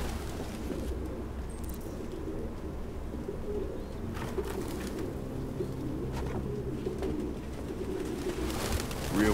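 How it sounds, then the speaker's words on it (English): Pigeons coo repeatedly in the video game Detroit: Become Human, a soft, steady burbling that continues throughout over a constant background ambience, with no talking. "No human could live with all these fucking pigeons."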